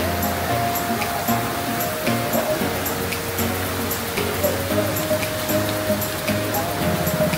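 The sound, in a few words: heavy downpour of rain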